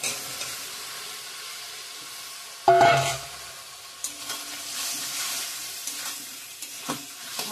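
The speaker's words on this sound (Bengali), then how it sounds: "ভালো করে কষিয়ে নেব আবারও" Fried potatoes and pointed gourd stirred into oily spice paste in a pan, a steady soft sizzle with a sharp clatter of a spatula near the start and several scraping stirs after, no voices.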